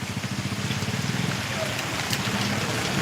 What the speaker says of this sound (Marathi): इकडे पाऊस आहे दादा